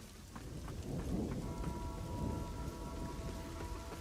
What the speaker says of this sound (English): Look at the rain as it's going